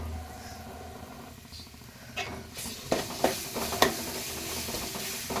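Ginger garlic paste fries in a pan for an Andhra-style chicken curry, a continuous soft sizzle with several sharp scraping clicks of a spoon stirring toward the end.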